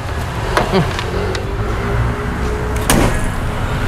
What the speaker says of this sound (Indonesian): Kita tutup kapnya.